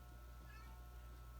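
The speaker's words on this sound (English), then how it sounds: "Okay, so the kittens are figured out they're alone. Sometimes they do this. They're crying." Kittens crying and meowing on their own after realising they are alone, a faint, thin mew amid steady background hiss.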